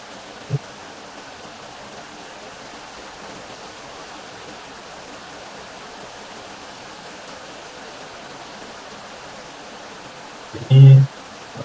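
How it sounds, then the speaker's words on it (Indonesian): Steady, even hiss of rain from a Unity particle effect, a continuous wash of noise over about twelve seconds, with a brief bump near the end. "Kita lihat, nah di sini hujan."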